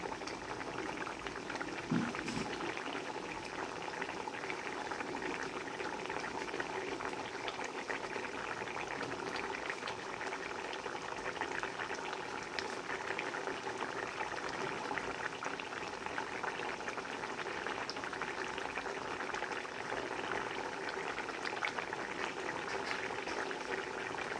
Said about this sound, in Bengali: এটা জ্যান্ত কই মাছের ঝোল হচ্ছে।